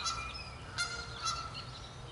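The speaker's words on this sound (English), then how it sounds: "There's the geese. They always have to make it into the video." Geese honk in the woods behind a painting studio, several nasal calls at a distance, faint against a quiet outdoor hum.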